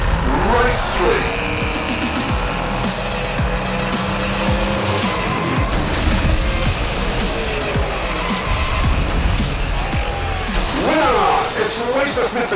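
Hot Wheels diecast toy cars race down a track with a loud, continuous rolling roar and squealing whirs. A commentator's voice runs over the racing.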